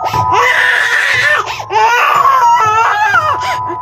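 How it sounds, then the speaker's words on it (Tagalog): An infant wails loudly and continuously at close range, with gasping breaks between sustained sobbing cries and no other sounds competing. "habang ang sanggol ay umiiyak ng malakas"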